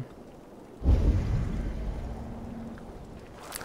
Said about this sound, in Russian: ну что, дождик пошел